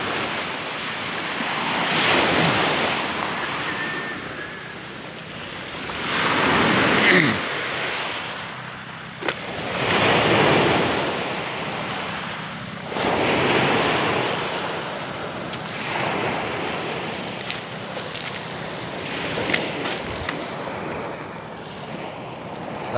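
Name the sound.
rough sea waves at the shore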